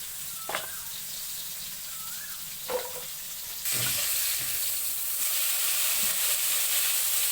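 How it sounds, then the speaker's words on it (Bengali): Rohu fish pieces fry in a pan with potatoes and are turned over, with a few knocks and scrapes from the flipping before the sizzle jumps to a louder, steady hiss. "মাছগুলিকে উল্টানো হচ্ছে"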